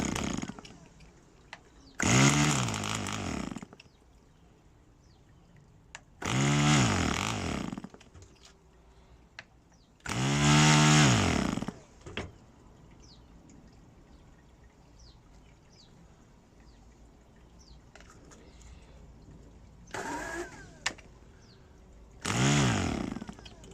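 A PAW model engine on a makeshift test rig fires in several short bursts of buzzing, high-revving noise a few seconds each, separated by quieter gaps while it sputters and dies between attempts.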